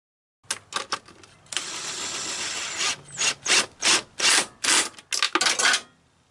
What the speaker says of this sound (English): I want to reattach this bracket here for these refrigerant pipes and power steering pipes